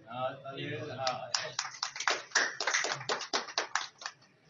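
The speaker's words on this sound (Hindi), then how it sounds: "यार को ताली भी बजा दें।" A group claps for a friend, a burst of many sharp, quick hand claps close by, following a stretch of talking voices at the start.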